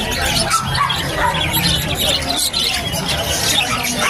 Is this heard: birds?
yes